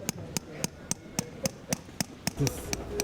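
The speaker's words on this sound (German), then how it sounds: "nicht so klopfen, so hämmern, sondern so." Evenly spaced sharp hammer blows, about ten in three seconds, struck close by at a Berlin street food stall, ringing out over low background noise.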